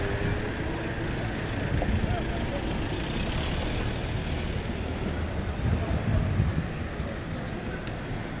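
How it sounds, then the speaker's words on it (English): Constant wind gusting across the microphone outdoors in Paris, a dense low rumble that swells and eases slightly without letup. "It's getting a little bit windy."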